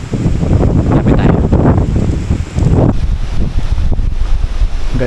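Strong wind buffets the microphone in loud, rough gusts high up on Mt. Samat, Bataan, a heavy roaring rush that surges and briefly dips before blowing hard again.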